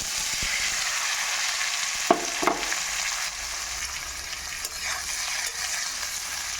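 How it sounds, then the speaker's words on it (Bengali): Boiled potatoes fry in hot oil with a pinch of turmeric, giving a steady close sizzle broken by a few sharp scrapes and clicks as they are stirred. "আলুগুলোকে একটু নাড়াচাড়া করে নেব নাড়াচাড়া করে আলুগুলোকে একটু ভেজে নেব"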